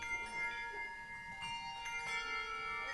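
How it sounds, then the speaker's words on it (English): A handbell choir rings at a Christmas concert: soft, sustained metallic tones hang in the air and overlap, faint and at some distance, with a few fresh strikes and no voices. "everybody try to ring their bell"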